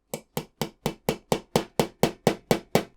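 A hammer taps a pin into a Fanhome Transformers movie Optimus Prime model kit: twelve crisp, evenly spaced metallic knocks, close and loud, with nothing else heard.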